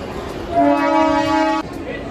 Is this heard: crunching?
no